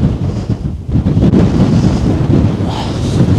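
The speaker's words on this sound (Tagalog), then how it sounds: "Napakalakas ng hangin dito guys" Strong winter wind on a Tatra mountain peak in Poland buffets the microphone in a loud, continuous, rumbling roar with gusty surges.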